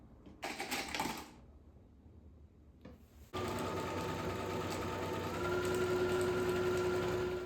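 A sewing machine stitches binding onto a quilted jacket made from a comforter, with a short burst of stitching, a pause, then a long steady run of loud mechanical whirring.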